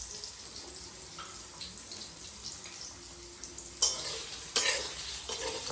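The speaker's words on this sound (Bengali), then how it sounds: "আর এগুলো ভাজাভুজি হচ্ছে।" Food frying at a Rath Yatra festival kitchen, where cashews are also being fried: a soft, steady sizzle with stirring, broken by a few sharp clanks and splashes near the end.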